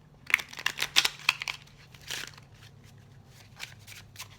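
A deck of cards being shuffled up close, a quick burst of crisp riffling followed by a softer second riffle, then quieter handling.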